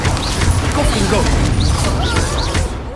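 Confringo blasting spell cast in the video game Hogwarts Legacy, a loud, dense burst of crackling, crashing impacts that rolls on for several seconds amid busy combat effects.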